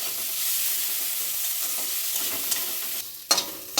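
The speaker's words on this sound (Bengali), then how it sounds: "এগুলো অল্প লাল করে ভেজে নেব।" Onions sizzle steadily in a pan as they brown for an egg curry. Near the end, a few sharp clattering stirs break through the hiss. There is no talking.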